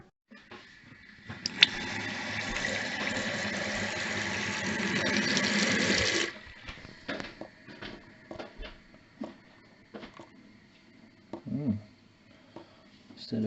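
Hot water pours steadily into a blocked sink drain for several seconds, a close hissing gush that stops abruptly, followed by faint clinks and gurgles.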